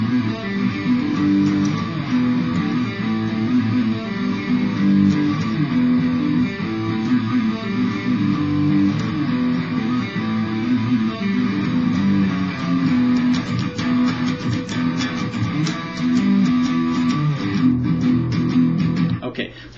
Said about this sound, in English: So I've got a lot of distortion on the guitar.